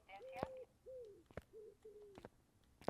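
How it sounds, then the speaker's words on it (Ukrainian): Several soft pigeon coos in a row in the video game The Exit Project, low and throaty, with sharp clicks and taps scattered between them in a quiet space. "Голуби курликають."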